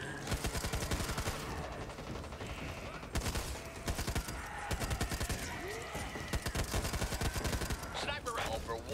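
LMG machine gun firing in the video game Back 4 Blood, long loud bursts of rapid shots with brief pauses, and players talking over the gunfire.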